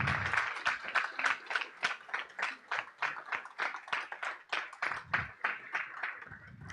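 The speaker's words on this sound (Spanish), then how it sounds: "quiero un aplauso de todos los que estamos aquí" Audience clapping at the closing ceremony of a regional dialogue event in Norte de Santander, heard as a steady run of fairly quiet, rhythmic claps from a small group in a hall, with no talk over it.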